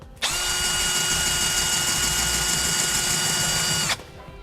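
A drill bores a pilot hole into a steel trailer hitch on a 2017 Forest River Rockwood RV, making one steady, loud, high-pitched whine that runs unbroken for about four seconds, then cuts off sharply.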